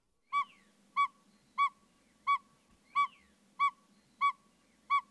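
An owl gives eight evenly spaced single whistled notes, each clear and tonal, at roughly two-thirds-second intervals against a quiet background with faint low rustle.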